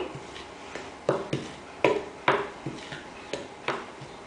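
A spoon mixing sweetener into a vegan chocolate orange truffle mixture in a bowl: a dozen soft clinks and scrapes in an uneven rhythm, close up and fairly quiet, with no talk.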